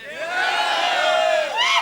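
A hall audience at an Amway network marketing event cheers and shouts loudly and continuously, a dense crowd roar with whoops rising near the end; no clear clapping stands out.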